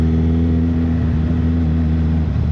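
Steady idle-to-rev drone from a 1,340cc Suzuki Hayabusa motorcycle engine, close and loud with strong low harmonics throughout, outdoors in light drizzle, no talking.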